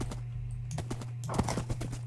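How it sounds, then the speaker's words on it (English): Horse hooves clip-clopping while riding in Minecraft, a quick, uneven run of hollow clopping steps over a steady low hum, close and moderately loud. "Not too sure about travelling actually with this horse."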